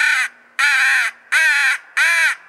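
A Faulk's crow call with a split mouthpiece, blown between both lips, gives four loud, harsh caws in a steady rhythm, each about half a second long with short silent gaps between.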